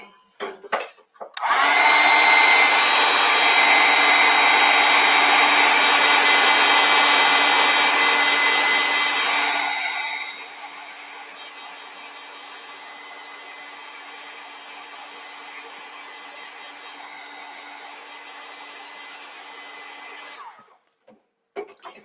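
A hair dryer blows on a watercolor painting, starting with a click, roaring loudly and steadily for several seconds, then dropping to a lower, quieter setting before cutting off.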